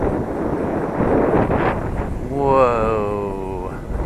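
Gusting wind rumbles and buffets the microphone outdoors while a small Eachine Mini Mustang P51D RC plane flies, with a voice speaking over the steady roar.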